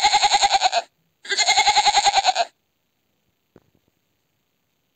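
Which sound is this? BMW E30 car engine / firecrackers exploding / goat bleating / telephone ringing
goat bleating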